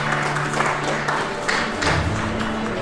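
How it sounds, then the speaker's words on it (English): An audience claps for the qualifiers at a Saint Bernard dog show, steady applause that holds throughout, with a few louder bursts and a faint voice underneath. "Can we have a round of applause in their absence for qualifying?"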